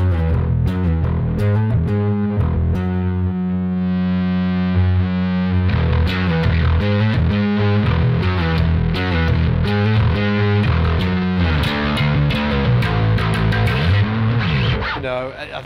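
A bass guitar runs through an Aguilar distortion pedal, playing a loud, gritty, continuous riff of rapid plucked notes and sustained growling tones, up close and without pauses.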